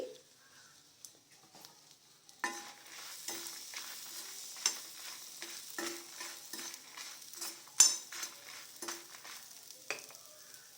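Dried red chillies for toor dal spice powder crackle and fry in a pan while being stirred, with soft scraping and intermittent pops, quiet and close, no talking.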